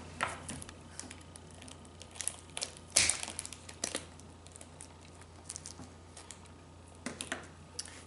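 Mushrooms being cut off a mini farm grow block, producing soft, scattered crunching and crinkling snaps at close range, with one sharper crack partway through against a quiet background.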